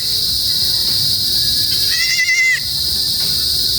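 A goat bleats once, a short wavering cry of moderate loudness, over a steady bed of high insect chirping and faint outdoor background.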